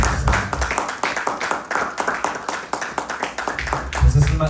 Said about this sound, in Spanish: Vamos a darle una ofrenda de palmas fuerte.